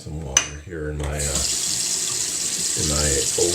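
Tap water runs steadily into an Old Spice shaving mug at a sink, a continuous close splashing hiss filling most of the clip, with brief low voice murmurs at the start and end.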